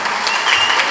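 Audience applause fills a political campaign meeting, a dense continuous clatter of many hands clapping, steady and close for the whole second with no speech over it.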